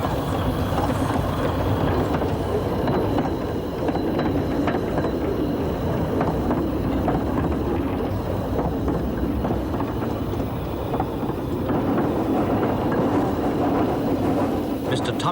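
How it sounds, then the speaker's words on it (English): The little steam engine Dol Badon runs on the Llanberis Lake Railway in Wales, its continuous loud rumble and rolling rail noise steady throughout, with a narrating voice over it. "the sight of the gallant little engine Dol Badon, puffing out steam like a tiny Welsh dragon"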